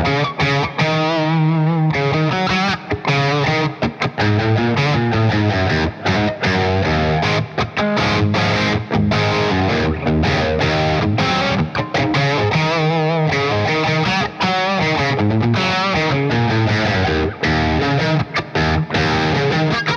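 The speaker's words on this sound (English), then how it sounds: "let's start dialing up the gain a little bit" Electric guitar played through a Bogner Mini amp with the gain turned up, giving loud, continuous distorted chords and riffs with brief pauses between phrases, close and alone.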